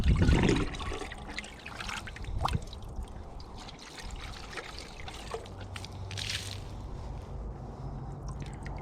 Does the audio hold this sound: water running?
yes